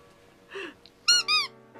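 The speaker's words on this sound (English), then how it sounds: "But this is a squeaky toy." A squeaky dog toy from a subscription box gives a few short, sharp squeaks, the last two loud and close together in quick succession.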